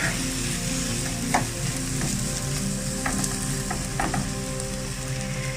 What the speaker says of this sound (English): so far the plantains are in the frying pan.